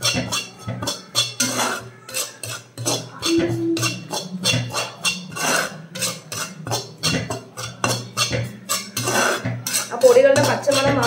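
Ground spices for a roasted-coconut fish curry are stirred nonstop in a pan, with a fast run of sharp metallic scrapes and clinks from a utensil against the pan. The stirring is close and rhythmic, with faint talk in the background.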